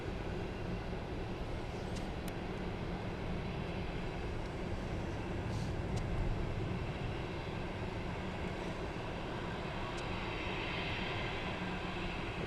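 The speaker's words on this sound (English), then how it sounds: "the Norse taxiing down just by the Gatwick control tower" A Norse airliner taxiing at Gatwick Airport near the control tower makes a steady, distant low engine rumble that holds evenly throughout.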